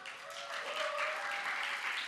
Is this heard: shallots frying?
no